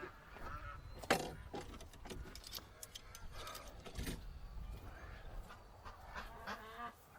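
Ducks honking and quacking inside a pen, a mix of calls at close range with one louder squawk early on and scattered rustling around them.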